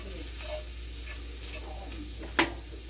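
Cooked meat being mixed in a dish, with soft scraping stirs repeating at a steady pace and a faint sizzle underneath, then one sharper clink of utensil against the dish near the end.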